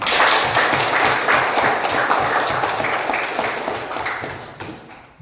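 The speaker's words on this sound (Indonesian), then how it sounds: "Tepuk tangan dulu untuk kita semua." Students in a classroom lesson on making compost give a burst of group applause, loud dense clapping at first that slowly thins and fades out by the end.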